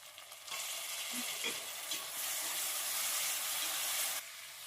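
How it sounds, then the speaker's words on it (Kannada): Soaked green peas fry in hot oil for a Kannada-style tomato bath, giving a loud, steady crackling sizzle that swells when the peas go in and runs alone without talk. "ಬಟಾಣಿನೂ ಅಷ್ಟೇ ಎಣ್ಣೆಲಿ ಚೆನ್ನಾಗಿ ಫ್ರೈ ಆಗಬೇಕು."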